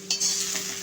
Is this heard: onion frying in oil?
yes